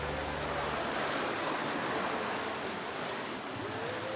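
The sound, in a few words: ocean waves and wind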